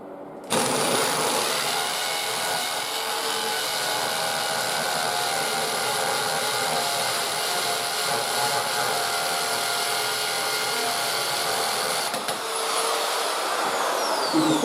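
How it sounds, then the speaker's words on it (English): A power drill fitted with a smaller bit bores steadily in a garage, making a continuous loud, near whine that holds for over ten seconds with only a brief dip. "use a smaller drill bit"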